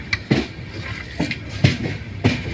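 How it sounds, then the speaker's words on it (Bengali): A superfast train passes through Dum Dum station without stopping, its wheels giving a regular series of heavy, loud thumps about every half second with a steady rumble beneath. "এই ট্রেনটা সুপারফাস্ট, এটা দমদম স্টপেজ দেয় না।"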